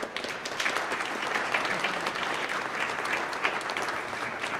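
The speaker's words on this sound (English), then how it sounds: "Please give yourselves a big, big round of applause." A crowd at a wine reception marking a chamber of commerce anniversary claps steadily, a dense, lively wash of applause lasting nearly five seconds at even loudness.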